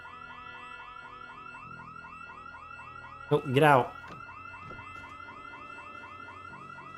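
A car alarm going off in the zombie survival game Project Zomboid blares in a steady, repeating electronic wail; a voice briefly speaks over it midway through.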